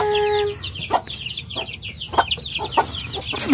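A brood of newly hatched chicks from a small farm peeps in quick high chirps, with scattered clucks over a low farmyard background.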